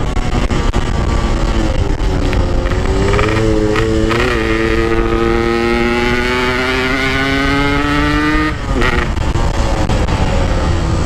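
A motorcycle engine drones loud and close through a ride, its pitch climbing steadily as it accelerates, then dropping briefly at a gear change before pulling again, with no talk over it.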